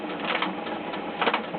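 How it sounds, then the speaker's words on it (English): A sewing machine runs a lock stitch while sewing an Easter bag, giving a brief, steady whirring hum with a slight swell near the end, close and moderately loud, with no voices. "With lock stitch to make it nice and strong, and then I'm going to sew round."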